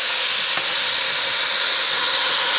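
Beef searing in a hot pan, a loud, continuous close sizzle and hiss with a faint scrape of a utensil moving the meat.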